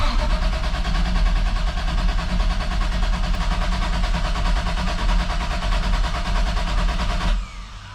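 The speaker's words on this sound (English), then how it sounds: "so I'm gonna go ahead and crank it" A Toyota Supra MK3 engine runs loud and steady close by, with a dense mechanical roar that holds evenly for about seven seconds before cutting off sharply near the end.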